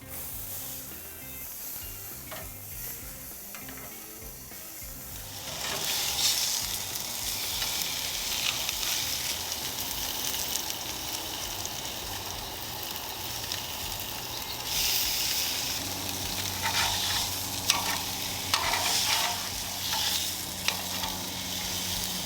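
Thick steaks grill over heat, starting as a quieter hiss that swells into a loud, sustained crackling sizzle as they are kept moving, with occasional pops.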